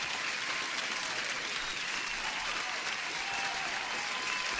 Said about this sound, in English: Huge applause to everyone